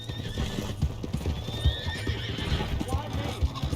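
A horse in the open-world western video game Red Dead Redemption 2 clip-clops along at a steady pace and whinnies, while characters shout and talk over the hoofbeats.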